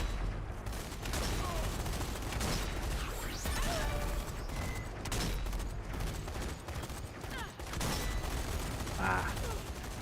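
Dense rapid gunfire in the zombie shooter game Zombie Army 4, bursts of shots and mechanical clatter running almost continuously beneath a talking player.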